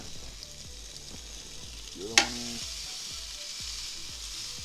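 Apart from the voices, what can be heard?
pork chops sizzling on hot grill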